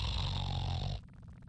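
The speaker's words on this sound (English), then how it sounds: "He snores in response." A homeless man sleeping under a newspaper snores in the Laura Bow 2 video game, one loud, rasping drawn-out snore that cuts off abruptly, leaving quiet room tone.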